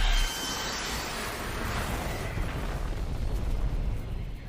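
A light bomb going off in an animated Bad Batch episode, a sudden burst followed by a sustained roaring, rumbling wash that swells slightly and carries on steadily without letting up.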